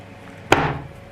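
A knife drives once through a hard bar of homemade soap, a single sharp close crack followed by a brief rough scraping as the slice falls away, with nothing else around it.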